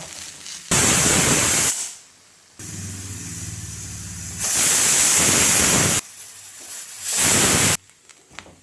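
Masala ingredients roast in a clay pan for chickpea curry, giving loud bursts of sizzling hiss that start and stop abruptly, with quieter stretches in between and no voices.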